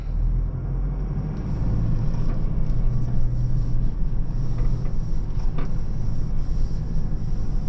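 A 2025 Toyota Prado 250 Altitude in sand mode drives off-road with its wheels spinning, a continuous loud low rumble and drivetrain drone with faint creaks and knocks on top.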